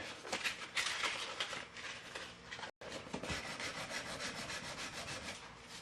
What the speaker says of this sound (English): when you're using sandpaper. This is 180 grit.